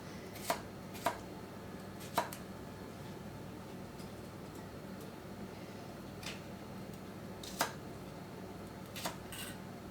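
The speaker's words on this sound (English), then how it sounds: "And I'm just going to cut some cucumbers. I think I'm just going to do thick slices this time." A knife cutting cucumbers into thick slices on a board, with about eight sharp, separate chops at an irregular pace over faint steady background noise, close but fairly quiet.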